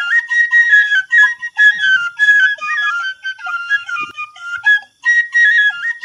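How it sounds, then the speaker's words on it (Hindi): A bamboo flute (bansuri) plays a sweet, flowing solo melody in a steady run of connected phrases with brief breaths between them, clear and fairly loud with no voices. "ये धुन तो ओम की बांसुरी की है।"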